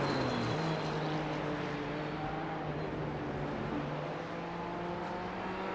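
A Ford Bronco with a 2.7-litre twin-turbo EcoBoost V6 drones steadily in the iRacing sim at the Nürburgring 6 Hours, its engine tone holding a sustained, slowly shifting hum with layered harmonics.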